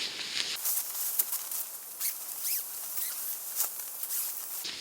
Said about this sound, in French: Ce qu'on va faire, c'est qu'on va ouvrir cette fermeture éclair.